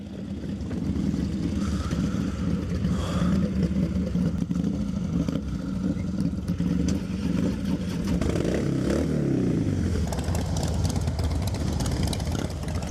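A Harley-Davidson Breakout 103 V-twin engine running at close range, a deep loud rumbling idle with throttle changes near the end, among other bikes on a group ride.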